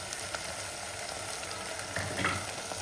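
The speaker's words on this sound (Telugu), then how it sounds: "చూసారా ఎలా వేగుతున్నాయో." Onions and cashews fry with ginger garlic paste in a pan for a mushroom curry, giving a steady, moderate sizzle with faint crackles and a few soft stirring scrapes near the end, and no talking.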